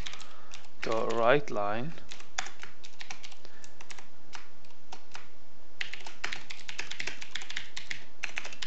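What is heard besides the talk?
typing code on a computer keyboard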